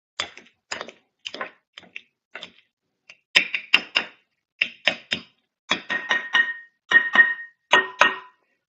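Cooked sweet potato squished down on a cutting board, a series of sharp, close taps and soft thuds that come irregularly at first, then faster and louder in tight clusters, with no talking.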